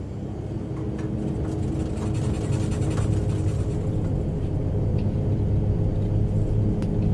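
Mitsubishi MU-2 turboprop in the X-Plane 11 flight simulator on its takeoff roll, a steady loud engine drone and rumble holding for several seconds with faint ticks on top.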